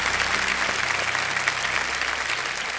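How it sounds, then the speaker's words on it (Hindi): A studio audience on the KBC India quiz show breaks into steady, loud applause that fills the room without a break throughout. "जोरदार तालियां बजाएं एक बार उधर भी"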